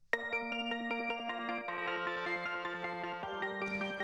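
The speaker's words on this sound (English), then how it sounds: "It's sort of a bed of synths. Like it's like a pluck," Layered synth tones with a plucky attack, ringing bell notes and a sustained pad beneath, stepping through a steady repeating melodic pattern, loud and close.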